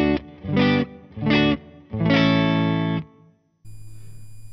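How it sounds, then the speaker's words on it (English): Clean electric guitar on the neck pickup, miked with a Sennheiser E609 through a Strymon Flint reverb, plays four bright strummed chords, the last one sustained and fading, then a faint amp hum follows. "And this is clean sound, neck pickup."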